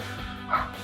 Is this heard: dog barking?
yes